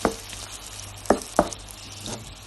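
A spoon stirs chakchouka in a frying pan, tomato and spices sizzling beneath a few scraping strokes, with soft bursts of sizzle over a steady hiss.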